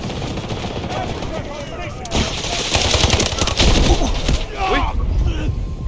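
Gunfire in the Delta Force game, loud continuous automatic bursts and heavy distant shots that swell midway, while a player talks over the shooting.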